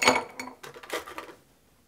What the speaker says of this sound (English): I'm gonna put some nice big square cubes in there.